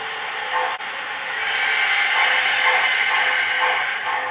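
Air pump sound effect from an MTH model Pennsylvania Railroad Decapod steam locomotive, a loud continuous hissing rush with a faint rhythmic pulsing that swells after a brief click, close and without talk.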